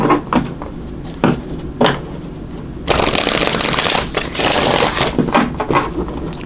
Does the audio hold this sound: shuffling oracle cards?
yes